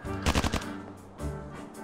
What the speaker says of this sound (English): There's constant gunfire coming from beyond the palace gate.